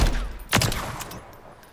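A BP50 rifle fires in Warzone 3, a short burst of sharp shots at close range, loud at the start and then a quick decaying tail.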